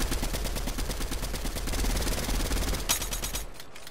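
Rapid automatic gunfire in the Fortnite video game, a dense loud stream of shots fired in quick succession for about three seconds before stopping abruptly.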